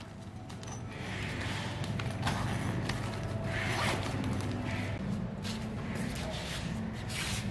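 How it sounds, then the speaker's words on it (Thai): The zipper of a LAGOONA JV camping tent, 210x210x160 cm for three to four people, is drawn open in one long, close, continuous rasp lasting several seconds. "เปิดซิปแบบนี้เลย"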